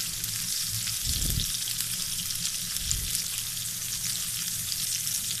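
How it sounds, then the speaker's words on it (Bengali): Eggplant slices frying in hot oil in a pan on a rainy day, a steady bright sizzle throughout with a couple of soft low bumps as the pieces are turned, close and alone with no talk. "সব দিকে সমানভাবে বেগুনগুলো ভাজা হয়ে যায়।"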